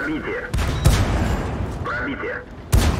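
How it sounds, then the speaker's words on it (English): A Churchill III tank's 57mm gun fires twice in a video game, each shot a loud, sharp boom with a rumbling tail, with someone talking between and over the shots. "You can see how effective that 57mm gun is. So rapid."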